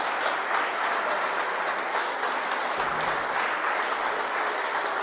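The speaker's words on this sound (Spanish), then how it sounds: "Dale un aplauso al que tienes al lado porque sigue aquí." A church congregation applauds one another in sustained, even clapping that fills the room at moderate volume, with no talk over it.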